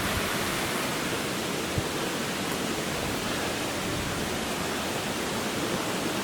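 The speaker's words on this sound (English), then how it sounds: "Here's the creek, guys, that we're going to be following all the way up the mountain." A mountain creek flowing steadily, a dense continuous rush of water close by with no pauses, loud and even throughout with no voices.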